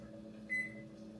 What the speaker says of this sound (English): set our kitchen timer.